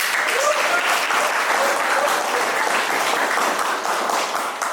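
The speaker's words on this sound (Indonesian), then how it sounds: "Untuk kelompok 4 dan kelompok 3, terima kasih, boleh kasih tepuk tangannya" Students in a classroom give steady, dense applause for their classmates' groups, a continuous wash of clapping with a voice faintly underneath.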